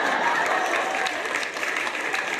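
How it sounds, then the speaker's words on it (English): Studio audience applauds steadily, a dense even clatter of many hands sustained throughout at close range. "Don't blister your hands applauding just yet."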